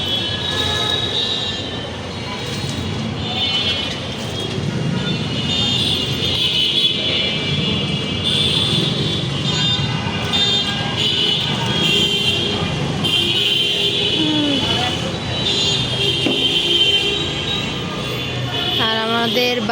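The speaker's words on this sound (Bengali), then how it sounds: "গাড়ির কি শব্দ!" Traffic noise from nearby road vehicles forms a loud, continuous rumble with occasional squealing and higher tonal sounds, with no speech.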